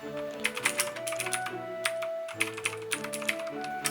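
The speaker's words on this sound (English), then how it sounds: "The keyboard that I have here comes with the Gateron Blue switches. They are very clicky and satisfying." Fast typing on a Keychron K4 mechanical keyboard fitted with clicky Gateron Blue switches, a steady patter of sharp key clicks close up, playing over a sustained background music tone with no voices.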